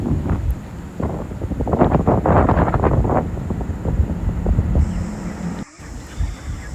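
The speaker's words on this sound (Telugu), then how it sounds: "ఈ చుట్టూ ఓపెన్ ప్లేసే కదా దానివల్ల కూడా గాలి విపరీతంగా వస్తుంది" Strong wind sweeps around an open poultry shed, buffeting the microphone in loud, gusty rumbles that swell and ease over several seconds, with a steady faint high hum in the background.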